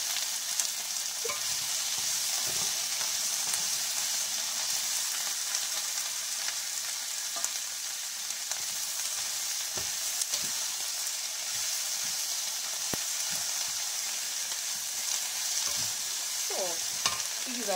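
Minced meat and onion frying in a pan for a cabbage and potato bake, a dense, even hiss of sizzling fat with occasional soft stirring clicks and pops, steady and close, without speech.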